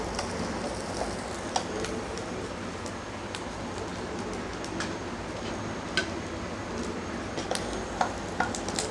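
Corn kernels fry lightly in hot oil for a crunchy masala dish, a steady close sizzle broken by occasional small pops and ticks, with no talk.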